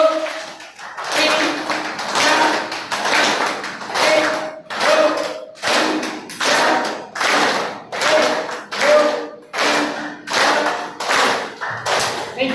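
An audience claps in rhythm on cue, producing about a dozen loud, evenly spaced bursts of group clapping with short pauses between them. Scattered voices join in around the claps.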